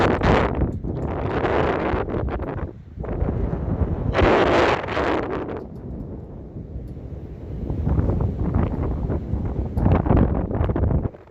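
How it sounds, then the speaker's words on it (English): Strong gusts of wind at the High Knob mountain lookout, 43 degrees, buffet the microphone in loud, roaring bursts that rise and fall, with no voices present. "43 degrees and windy."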